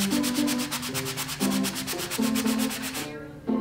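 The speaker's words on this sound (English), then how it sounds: "there needs to be a little bit of sanding work on the cuts just to make sure that they look really nice" Sanding wooden sign parts cut on a CNC router, a steady rhythmic rasp of repeated back-and-forth strokes, close and continuous, stopping just before the end, with no talking.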